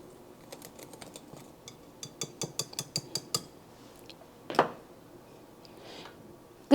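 A whisk mixes waffle batter in a mixing bowl, giving a quick series of sharp clicking taps against the bowl, then a single louder scrape and a few scattered knocks, close up with no talking.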